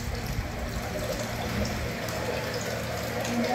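Water pours steadily into a vessel during cooking for a sit-down catering job, a continuous close trickle and splash mixed with kitchen background noise.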